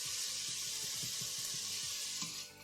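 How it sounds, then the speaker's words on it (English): Onions and garlic sizzle in a hot pan with a continuous bright hiss, while soft rhythmic knocks of stirring sound underneath. "The onions and garlic in first. So in they go. That little cheeky sizzle, that's what we're after."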